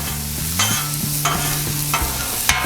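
Pork chorizo frying in a pan over medium-high heat for tacos, a loud steady sizzle with regular scraping stirs about every half second, close up and without speech.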